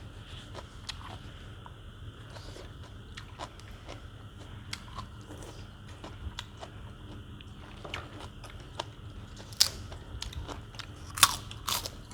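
Crunchy biting and chewing of crispy pork rinds with pork noodle soup, close and fairly quiet, with irregular crackly bites that grow sharper toward the end.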